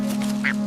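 A single short duck quack, bright and close, over a steady low electrical hum.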